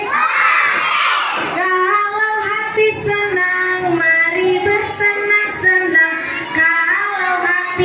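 Classroom of children sings a clapping song together, loud chorus of young voices chanting in unison with a shouted burst near the start and rhythmic claps scattered through.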